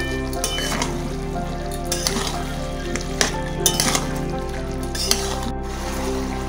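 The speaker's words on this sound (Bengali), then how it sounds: "এবার আমি দিয়ে দেবো জিরে ধনের গুঁড়ো, দিয়ে দিচ্ছি চিকেন কারি মশলা," Cumin, coriander powder and chicken curry masala fry with potatoes in a pan, giving a continuous close sizzle broken by repeated scraping stirs and light clinks of a utensil against the pan.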